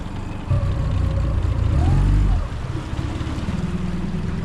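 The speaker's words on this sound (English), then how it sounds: "I'm going to stick it in reverse now, and then as you can see, we're going to take that boat out of the bay." A small Polycraft 300 Tuffy fishing boat's engine rumbles low and steady as it reverses out of a bay, swelling louder for a couple of seconds before settling back to a softer idle.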